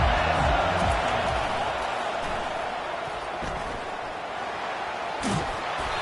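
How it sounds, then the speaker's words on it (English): A football stadium crowd roars in a dense, steady wash of cheering and noise that holds loud throughout, with a brief sharp peak near the end and a commentator talking over it. "This crowd bringing an ear-splitting welcome to their visitors."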